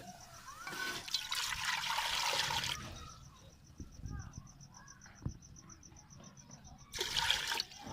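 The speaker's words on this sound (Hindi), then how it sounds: "आधा किलो पानी डाला हमने।" Water pours into a pan holding half a kilo of sugar for carrot murabba, a broad rushing splash for about three seconds that stops, then returns briefly near the end amid quiet kitchen background.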